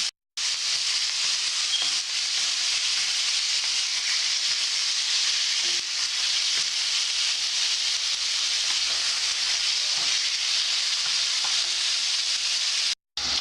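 Chicken pieces browning in a pan for a stir fry, giving a steady, loud, unbroken sizzle that runs for over twelve seconds alone, with no talking over it.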